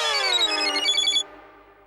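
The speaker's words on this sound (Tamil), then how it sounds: "ஏன் அனுஷ்கா ஃபோன் அடிக்குது?" A mobile phone ringtone plays a short bright melodic phrase for about a second, then cuts off and leaves faint room tone. It sounds clear and moderately close, with no talk over it.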